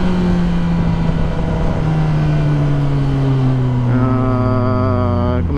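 A Kawasaki ZX10R motorcycle accelerates hard in second gear on a Los Angeles street, its loud, close engine note climbing steadily in pitch, then the revs drop briefly and rise again.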